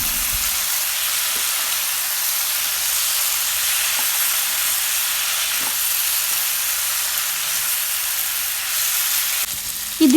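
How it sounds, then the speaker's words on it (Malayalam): Beef fries in a pan together with fried coconut pieces, giving a loud, dense, unbroken hiss that runs throughout, with a few faint taps of stirring. "എല്ലാം ഒന്ന് മൊരിയിച്ചെടുക്കണം കേട്ടോ."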